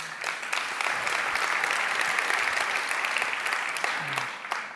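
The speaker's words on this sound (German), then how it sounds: "Nochmal einen Applaus für Sebastian." Keynote audience at Adobe Summit Munich applauding, a dense, sustained wash of clapping from a large crowd that swells and then tapers off.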